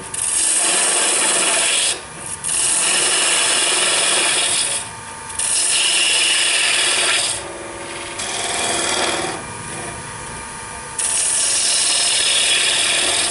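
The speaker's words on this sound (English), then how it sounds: "this is one thing that you do sand as you go" Sandpaper rubs against a hand-carved wooden water dipper on a lathe, making a loud, steady rasping hiss in long continuous passes broken by brief pauses as the sanding lifts off.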